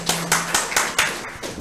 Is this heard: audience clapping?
yes